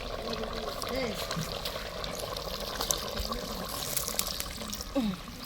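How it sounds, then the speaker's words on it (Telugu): Water poured into a pot of frying chicken, a soft trickling splash running under people talking, fairly faint and close. "ఇప్పుడు ఇందులోనే వాటర్ జామ్ అన్నట్టు"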